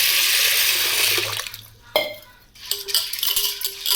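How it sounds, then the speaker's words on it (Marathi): Water runs from a tap into a metal pot holding sago, a steady rushing splash that pauses briefly with a clatter, then resumes with a brighter filling tone. "तर आता मी याच्यामध्ये पाणी टाकते"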